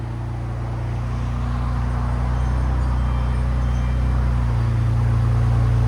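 A RAM 1500 pickup engine rumbles and revs through a Flowmaster Outlaw exhaust, a loud, steady low growl that builds slightly toward the end, close and without talk.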